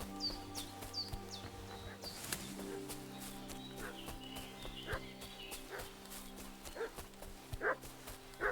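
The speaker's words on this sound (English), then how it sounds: "What's that dog making such a fuss about?" A dog barks in the medieval village setting of Kingdom Come Deliverance 2, a few sharp, moderately distant barks among clopping hooves, birdsong and a low ambient hum.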